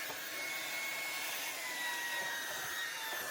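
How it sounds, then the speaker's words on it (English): A vacuum cleaner runs steadily inside the enclosure of a Bambu H2S 3D printer, sucking out debris with a continuous airy whine that stays close and loud for the whole stretch. "remove all the debris from inside my case with a vacuum"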